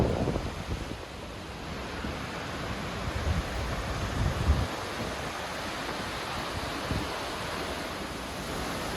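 Steady, broad rushing water roar fills the whole stretch, like Rodney Falls on Hamilton Mountain near Seattle heard from a short distance, with no voices.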